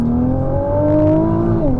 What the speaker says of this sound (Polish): Uwielbiam ten samochód.